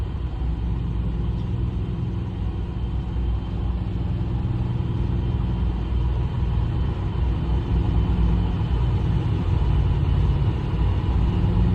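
A 1996 Chevrolet Impala being driven gives off a steady, close engine drone and road rumble that holds an even level throughout, with no voices.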